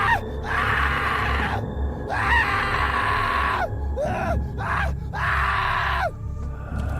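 People scream in bursts amid a horror scene, several long shrill wails rising and falling with brief gaps between them, loud and close over a low background rumble.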